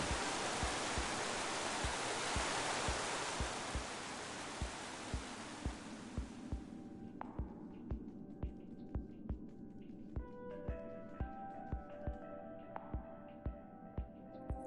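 Steady broadband rush of a waterfall in Minecraft: Story Mode fills the first several seconds, then eases into a quieter wash with tonal game music and a regular low thumping pulse throughout.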